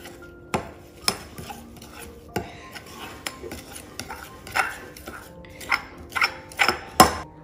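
Foam and powder being stirred together for homemade instant snow, a run of scraping, tapping strokes against a container, irregular and close, growing busier toward the end.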